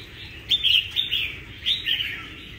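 A caged songbird, a northern Vietnamese pet bird, chirping in several bright, quick bursts of tweets spaced across the moment, fairly close and clear over a quiet background.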